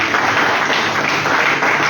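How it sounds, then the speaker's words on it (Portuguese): A Pentecostal church congregation in Mogi Guaçu, Brazil, applauds in a sustained, loud wash of clapping that fills the room steadily, with no voices standing out. "dê uma salva de palmas para Jesus, bem forte, bem alegre"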